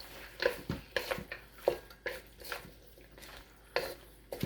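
Carrots and bella mushrooms are tossed in a pan over a butane stove, with repeated clattering scrapes and knocks of a utensil against the pan in an uneven rhythm, close and fairly crisp.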